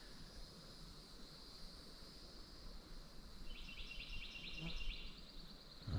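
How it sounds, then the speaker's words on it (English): Bird calls ring out during an outdoor hike, a few short repeated chirping phrases near the middle over soft steady wind and ambient rush, faint and fairly distant. "those are birds right there"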